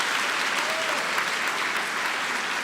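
A church congregation applauds a sign-language interpreter preaching in Libras, producing a steady, full burst of clapping that stays loud and even from start to finish.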